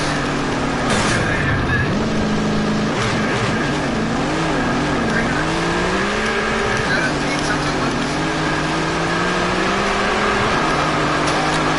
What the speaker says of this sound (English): The green is out. This is practice laps.